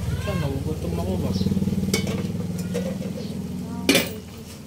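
Igado, an Ilocano dish with potatoes, is stirred in a pan, with a continuous scraping and sizzling and a sharp clatter of utensils near the end, while a voice talks over it.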